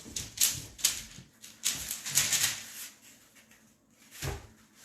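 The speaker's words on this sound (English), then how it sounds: "I'm basically just taking this and now rubbing it down" A wooden farmhouse Christmas sign being rubbed down and distressed by hand, a series of dry scraping, scuffing strokes in irregular bursts, close and fairly quiet with a pause near the end.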